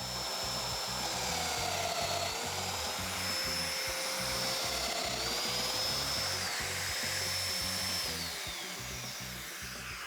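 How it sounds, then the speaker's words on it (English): A power router or drill cuts mortises into wooden mudroom cabinet panels, a loud steady whine with shifting pitch and rough chattering underneath, running continuously at close range. "I can mortise straight down into my bottom panel. I can mortise into the center panel at the same time"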